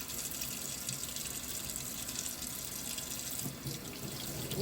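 Hot tap water runs steadily into a sink while a pet is being washed, a continuous splashing flow with slight changes in the spatter, close and alone with no voices.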